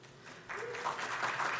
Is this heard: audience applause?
yes